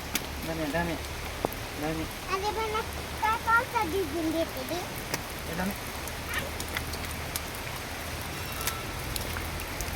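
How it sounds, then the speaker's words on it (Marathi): Steady rain falling outdoors near a temple on a Shravan Monday pilgrimage, a constant broadband hiss under a voice talking briefly in the first few seconds, then rain alone. "धबधबा नाही पाऊस चालू आहे"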